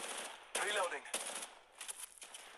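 Gunfire in the mobile video game Apex Legends Mobile: short rapid bursts of automatic shots, a few separate volleys close together, with a voice talking over them.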